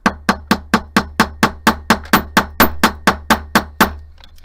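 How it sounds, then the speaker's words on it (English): A hammer flattens the ends of metal wire into paddle shapes for a beaded temple pendant, about fifteen sharp, evenly spaced metallic strikes in a steady rhythm, close and loud. "here I go with the hammering. I'm going to smash these ends."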